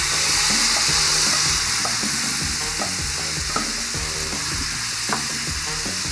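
Brussels sprouts hitting a hot pan and frying, producing a loud, dense, steady sizzle with occasional faint clicks of utensils beneath, close and without voices.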